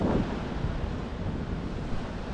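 Big waves breaking on the shore of Nusakambangan island, a dense, continuous rumbling roar with wind buffeting the microphone.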